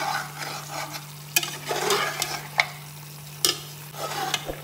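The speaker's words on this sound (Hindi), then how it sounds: "अच्छी तरह मिक्स करेंगे सारे मसाला जात को" Spices and turmeric being stirred in a pot for degi aloo mutton shorba, giving a soft continuous sizzle with several sharp spoon scrapes and taps against the pot, close and alone with no talk.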